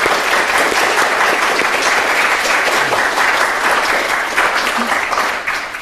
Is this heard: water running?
no